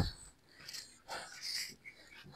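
Heavy, ragged panting from a man after climbing a steep uphill trail at Kawa-Kawa Natural Park in Ligao, Albay, with several breathy gasps close to the mic outdoors.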